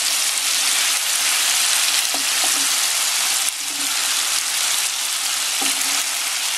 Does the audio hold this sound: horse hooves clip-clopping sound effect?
no